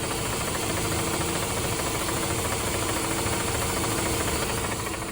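A 2003 Corvette's engine runs steadily at close range, a dense, continuous mechanical rumble with a faint knocking texture, loud and unbroken throughout, with no talking.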